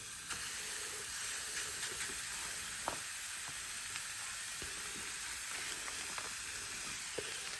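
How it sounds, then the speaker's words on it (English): Thin-cut beef steaks sizzle and hiss steadily in a hot cast iron pan on a barbecue, a dense crackling frying sound with scattered pops and spits, no voices. "Nice and hot, there's a nice sizzle there."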